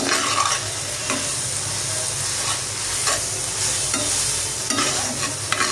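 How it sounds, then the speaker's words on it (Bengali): Shrimp and Malabar spinach cooking in a covered pan over low heat, stirred now and then; a loud, continuous sizzle with repeated scraping strokes of a spatula across the pan. "নাড়াচাড়া করে আবার ঢেকে আবার কিছুক্ষণ রান্না করব।"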